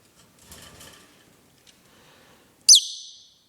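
Pet budgies indoors give soft, scattered chatter and twittering, then one loud, sharp, close chirp rings out near the end.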